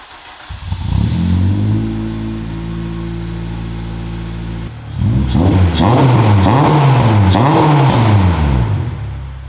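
A car engine with a stainless steel exhaust idles with a deep steady burble, then revs repeatedly in rising and falling bursts, loud and close through the exhaust.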